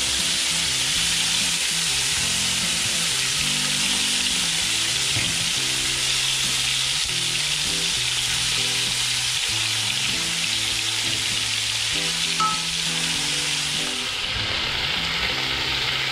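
Marinated pork asado fries in a pan with a steady, loud sizzle that continues unbroken throughout, with faint stirring clatter underneath.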